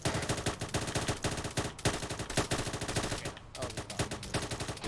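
Rapid automatic gunfire in the military game Arma 3, loud and continuous, with dense rhythmic bursts of shots and only a brief pause before the firing resumes.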